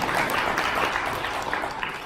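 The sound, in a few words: seminar audience applause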